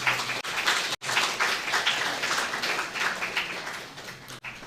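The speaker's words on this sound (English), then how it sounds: "Let's clap for them." Moot court audience applauding after a judge announces scores at an LSU competition, a dense steady wash of many hands clapping, fairly loud and continuous with a couple of brief dips.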